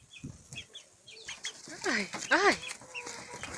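Hens and a young cockerel clucking close by, a run of short clucks building into louder squawking calls near the middle, with a woman's brief exclamations.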